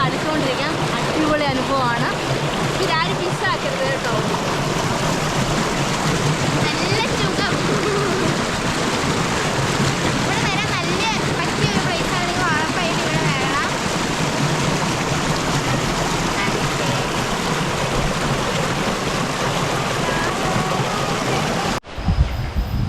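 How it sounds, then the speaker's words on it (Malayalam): Cold water rushing between rocks at a natural waterfall, a steady, full roar that fills the whole scene, continuing evenly for a long stretch before cutting off abruptly at the end. "ഈ പാറയ്ക്കിടയിലൂടെ വരുന്ന നല്ല തണുത്ത വെള്ളത്തിൽ"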